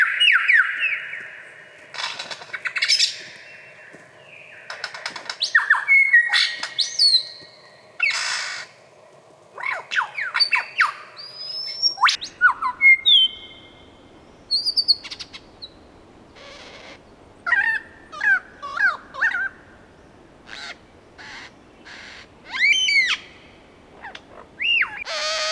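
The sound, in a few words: superb lyrebird mimicking other sounds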